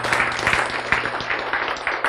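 Audience applause at a Korean sermon-style talk on longevity, a dense wash of many hands clapping at steady volume for about two seconds, with no voices over it.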